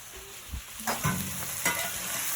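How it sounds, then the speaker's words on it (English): Vegetables and mushrooms cook in a pan for a pepper steak, giving a steady soft sizzle broken by a few louder stirring scrapes and clatters near the middle, with no talk. "They're cooking, getting nice. The mushrooms are looking good."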